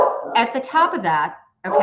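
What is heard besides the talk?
dog barking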